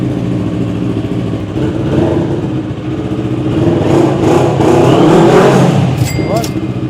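A motorcycle fitted with a slip-on exhaust, braided brake lines and frame sliders revs loudly nearby in a soundcheck, its engine note climbing and falling over a steady idle rumble.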